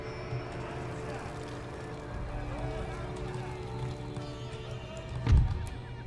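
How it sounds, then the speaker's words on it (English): Cavalry hooves clip-clop and horses whinny in a battle in the strategy game Empire: Total War, set over a steady battlefield din with a thump near the end; someone talks over it. "the regiment of horse."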